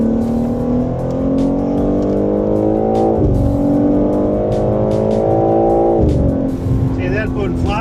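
Cars run flat out at a Zandvoort circuit track day, with a steady loud engine drone whose pitch climbs through gears and shifts, as people talk nearby.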